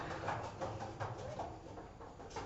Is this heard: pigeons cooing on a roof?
yes